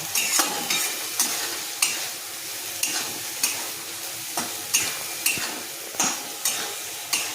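Rohu fish roe fries with curry leaves in a pan, sizzling steadily while a utensil stirs and scrapes at a regular rhythm, roughly every half second to second.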